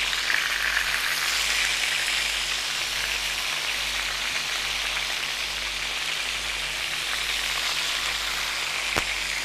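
Chicken tikka pieces sizzle and spatter in hot oil, a dense, steady crackling hiss that stays loud and close throughout with no talk.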